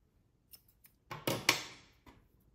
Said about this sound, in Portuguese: Agora eu vou cortar aqui o meu fio